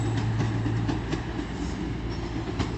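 A train passing through York station on the East Coast Main Line, a loud, steady rumble with faint rhythmic wheel clatter and a low hum throughout, close and continuous.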